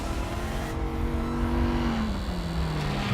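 A Dodge SRT Viper's V10 engine drones steadily at close range, holding a sustained note that drops in pitch partway through as if shifting or easing off, with no talk.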